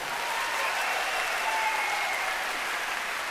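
Warm applause from the audience at a Japanese stage revue show, greeting a backing band: soft, distant, evenly sustained clapping with no voices over it.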